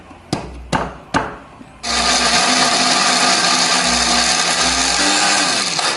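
Chili spice paste ground with added water or oil in an electric blender: three sharp knocks, then a loud, steady whirring motor that runs on with a slight pitch change near the end.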